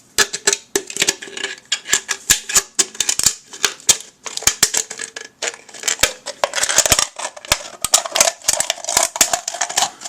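Rapid, repeated snipping of scissors cutting material, sharp clicks in uneven bursts, close and fairly loud, with no talking.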